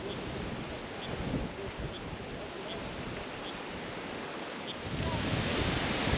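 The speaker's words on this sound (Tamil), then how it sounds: "இந்த இடத்துல காற்றோட வேகம் வந்து ரொம்ப அதிகமா இருக்கு." Strong wind roaring across a high viewpoint in Kookal village near Kodaikanal, a constant broadband rush that swells louder toward the end, buffeting the microphone.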